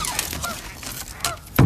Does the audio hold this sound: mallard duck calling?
yes